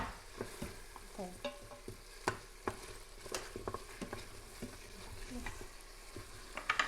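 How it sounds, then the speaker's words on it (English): Onions sauté in an Instant Pot while being stirred, giving a soft sizzle broken by repeated scraping and clacking of a spoon against the pot. "Elijah, would you mind stirring the onions for us?"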